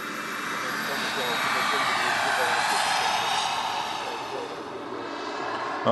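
A turbine-powered radio control model helicopter with a six-blade rotor head flies outdoors, its steady turbine whine and rotor wash rising and falling slightly, loud and continuous as people talk over it.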